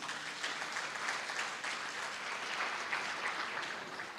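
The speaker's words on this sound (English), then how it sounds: "A round of applause, please." Steady, dense applause from a closing-ceremony audience, a continuous wash of many hands clapping at even loudness throughout with no voices above it.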